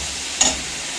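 A pan of tomato frying with ginger garlic paste, a quiet sizzle with one short burst of stirring or scraping partway through, no voices.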